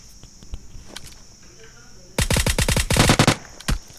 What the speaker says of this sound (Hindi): वो बंदा भी मुझ पे फायर करता है, लेकिन उससे पहले ही मैं उसको नॉक कर देता हूँ।